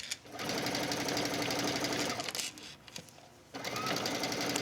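A sewing machine zigzag stitches through the gathers of a wrap dress waistline, running as a loud, steady close whir that pauses briefly before starting again.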